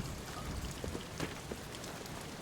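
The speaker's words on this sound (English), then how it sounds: "The rain is approaching my voice" Rain falls in the horror video game Amnesia: The Bunker, a soft continuous patter with scattered sharper drops, faint and steady throughout with no talking.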